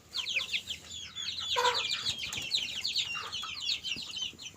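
Several hens cluck and chatter continuously nearby, overlapping high-pitched calls with a brief louder squawk.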